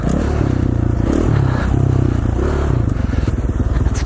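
A dirt bike rides sandy, snowy single track at Rabbit Creek, Idaho, its engine a loud, close, throbbing drone that rises and falls with throttle, plus rattling and scraping from the trail; no talking.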